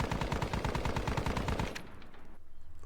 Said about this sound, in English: So let's open up with that machine gun.